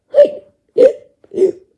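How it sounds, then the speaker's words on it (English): Three loud, sharp hiccups in a row, spaced about half a second apart, each short and abrupt with quiet between them. "You got hiccups again!"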